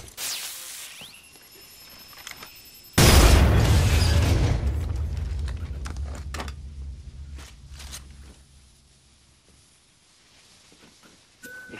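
A breaching charge detonating in a video game, a sudden heavy boom with a deep rumbling tail that fades over several seconds, followed by scattered clicks and small debris sounds.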